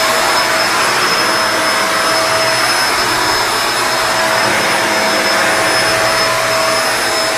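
A Kenmore Lift Up upright vacuum cleaner runs steadily and loudly throughout, a constant motor whine with a broad hiss and no voices.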